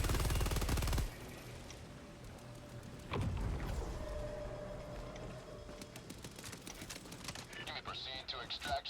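Helldivers 2 gunfire opens with a loud rapid burst of rounds, then gives way to quieter scattered shots, game effects and a rising electronic whine. A voice talks over much of it.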